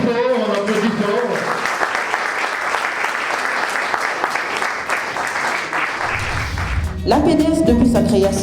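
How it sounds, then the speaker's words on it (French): A crowd claps loudly and steadily for several seconds. Then the clapping fades and a voice comes in over music. "On applaudit fort, on applaudit fort."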